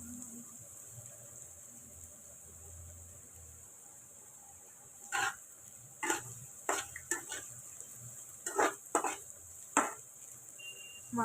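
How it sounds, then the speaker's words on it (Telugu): Veg fried rice stirred in a pan over high flame, with a low background sizzle, then a series of sharp metallic scrapes and clanks from the spatula against the pan in irregular bursts. "మాడిపోకుండా ఇలా మనం తిప్పుకుంటూ ఉంటే బాగుంటుంది"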